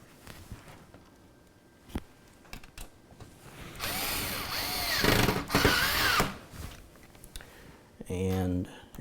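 A power driver spins screws in to secure a video card in a desktop computer: two whirring bursts with a rising, wobbling pitch, then a short, fast-ratcheting buzz. Scattered clicks and handling knocks fill the quiet moments between them.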